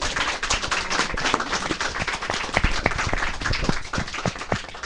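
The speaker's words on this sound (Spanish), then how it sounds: "Muy bien, un aplauso." A school audience applauds, with brisk, scattered clapping that runs steadily and fairly close for the whole stretch, with no voices over it.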